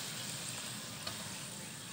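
Potato sticks for French fries fry in oil with a soft, even sizzle that stays steady throughout, quiet and without talking.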